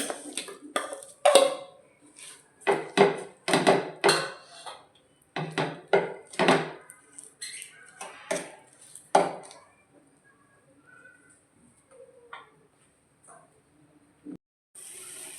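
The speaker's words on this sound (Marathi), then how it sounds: "केळी परतून घ्यायची तुपामध्ये" Bananas are sautéed in ghee in a pan for Maharashtrian keliche modak, heard as a spatula clattering and scraping against the pan in uneven bursts, close by, before it trails off into near quiet.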